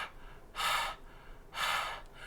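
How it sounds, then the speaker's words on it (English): Two soft, airy breaths pushed out like a whispered letter H, each lasting about half a second with a pause between, close and gentle with no voice, as warm air is blown for recorder practice. "we're going to use soft air, like the sound of the letter H."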